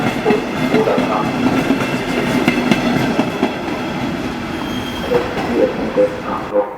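Trains run through Hackerbrücke station in Munich, with a continuous rolling rumble, clattering wheels on rail joints and faint squeals over a busy background.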